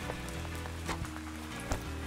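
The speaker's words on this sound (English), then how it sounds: "It's raining." Steady cartoon rain pours throughout, a dense hiss broken by a few soft splashy accents, with no talk over it.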